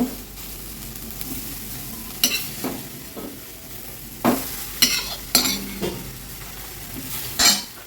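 A fish head fries in a pan with spices under continuous sizzling, while repeated scraping stirs and sharp metal clanks strike the pan several times at close range.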